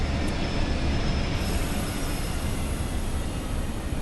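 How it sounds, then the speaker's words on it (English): A locomotive brake applied in Train Sim World, a steady rumbling rail roar with wheel hiss and faint squeal that holds constant and loud throughout, no voices. "So obviously if I go into loco brake, it will be like that."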